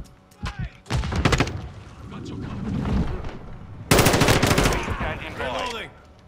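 Bursts of automatic gunfire in Call of Duty Modern Warfare 2 come close and loud in rapid strings, broken by short pauses, with a voice speaking over parts of it.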